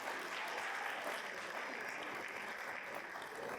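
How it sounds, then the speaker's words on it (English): Audience applause at a National African American Read-In Day event, a steady, moderately distant wash of clapping throughout with no voices over it. "give yourself a round of applause"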